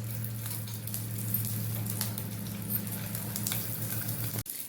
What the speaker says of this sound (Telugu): పచ్చిమిర్చి, తెల్లగడ్డ ఇప్పుడు ఫ్రై చేసుకుంటున్నాం.